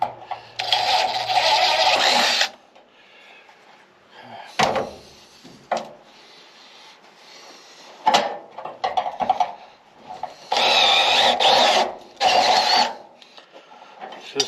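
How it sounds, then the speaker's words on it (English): A power drill whines in several bursts of varying length while drilling near the radiator of a 1961 Unibody build, with pauses and clunks between runs. "Gonna drill a hole in my radiator."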